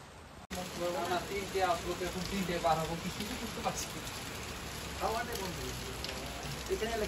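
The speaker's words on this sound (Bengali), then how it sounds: "তো আপনাদেরকে দেখাচ্ছি বৃষ্টি কেমন হচ্ছে।" Heavy rain falls steadily in Darjeeling, a dense constant patter on surfaces, with voices talking over it through most of the stretch.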